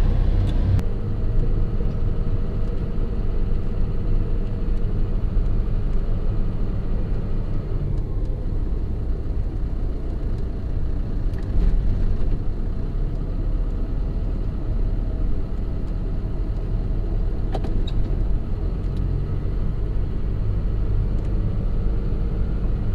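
A John Deere loader drives across a snowy storage lot, its engine a steady, continuous low rumble that holds at a near, even level throughout.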